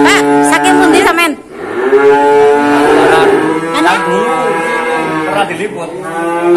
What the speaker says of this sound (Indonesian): ini kita akan masih dipantau sapi limusin